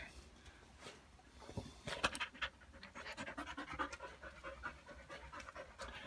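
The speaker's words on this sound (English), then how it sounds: "I got my friend here, the dog" A dog pants close by in a farm workshop, a quick rhythmic run of breaths that grows steadier and louder after a couple of seconds, with faint scratching, alone and fairly quiet.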